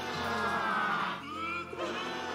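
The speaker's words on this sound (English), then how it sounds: "I can really hear the crowd cheering me on." A dense, loud crowd of peasants roars and cheers continuously in the King of the Castle video game, a sustained wash of many voices with a brief dip midway.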